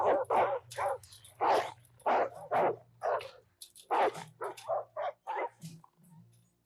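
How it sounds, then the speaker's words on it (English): Police dogs bark repeatedly in a tense TV drama scene, a string of loud, close, evenly spaced barks over a steady low hum, with no talk. "Canine units inbound."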